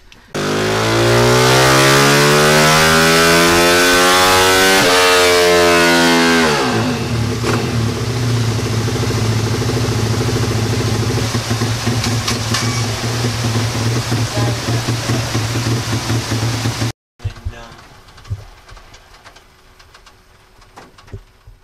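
A CW140 pit bike engine screams through a loud full-throttle rev on a dyno, its pitch sweeping steadily upward, then drops to a rough, steady idle before cutting off and sputtering briefly.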